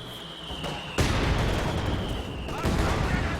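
An artillery and mortar barrage in Company of Heroes 2, several sharp blasts and booming impacts landing over a continuous rumble of battle noise, fairly loud and close.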